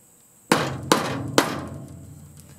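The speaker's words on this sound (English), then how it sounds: "Take a punch. Punch it out." Three sharp, ringing metallic hammer blows on a punch knock out pop rivets, evenly spaced about half a second apart, each leaving a short decaying ring, close and alone with no talk.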